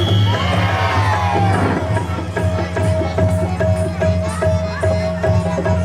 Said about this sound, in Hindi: जोरदार तालियां हमारे कलाकारों के लिए।